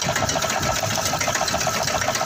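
A Massey Ferguson 1035 tractor engine runs steadily and loudly nearby in a sugarcane field, a rapid even mechanical chatter that holds without pause.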